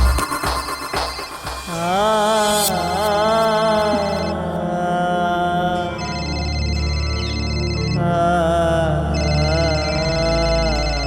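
A phone ringtone plays loudly and continuously as a call is placed in a Hindi horror thriller, a repeating melodic electronic tone after a brief rustling start.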